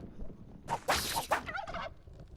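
A turkey gobbles in Spelunky 2 in a quick, rattling burst, fairly close, with short pauses between the warbling calls and quiet background otherwise.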